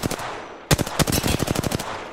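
Rapid video game gunfire, a loud burst of sharp automatic shots in quick rhythm after a short lull, heard alone with no talk.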